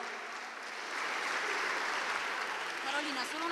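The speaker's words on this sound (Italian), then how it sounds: "Quindi facciamole un grande applauso a Carolina." Applause from an audience at an Italian singing contest evening, a steady broadband wash of clapping that rises after the first second and holds, moderately loud and continuous.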